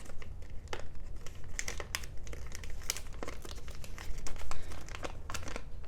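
Paper crinkling and creasing at close range while an origami frog is folded, a steady run of soft crackles and sharp crisp snaps with no voice.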